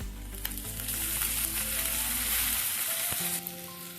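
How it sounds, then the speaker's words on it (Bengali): Chili and ginger paste with tempering spices frying in hot oil in a pan, a loud steady sizzle with one or two brief utensil clinks before it quiets near the end, no voices. "ভালো করে ভেজে নিচ্ছি"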